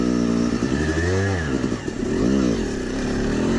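Yamaha YZ250 two-stroke dirt bike ridden through snow, its engine loud and close, revving up and down in rising and falling surges.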